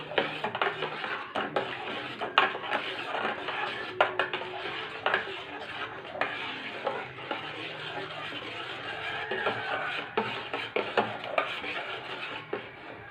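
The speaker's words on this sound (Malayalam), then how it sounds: "പഞ്ചസാര ഇട്ടിട്ട് നന്നായി ഇളക്കണം കേട്ടോ." A spoon stirs sugar into a jackfruit seed shake, giving a steady run of scraping and clinking against the container that continues throughout at close range.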